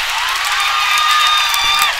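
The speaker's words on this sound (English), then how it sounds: "Listen to the crowd as the Eagles have come roaring back again to tie this one up at 18." A volleyball crowd at a college senior-night match cheers loudly after the home Eagles tie the score, a sustained roar with shouts and a few whistle-like screams.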